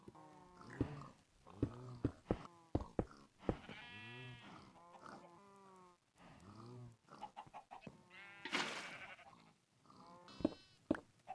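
Sheep in a video game farm bleating repeatedly, several wavering calls spread across the stretch with short gaps, quiet and close, with no talk over them.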